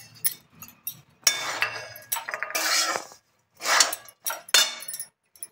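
Chopped peanuts, coconut, cashews, raisins and dates tossed together in a bowl for laddus, with loud clinking spoon-on-bowl scrapes in irregular bursts and short pauses between them.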